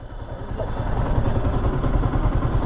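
A Yamaha R15 V2 motorcycle idles nearby with a steady, low pulsing rumble and no talk.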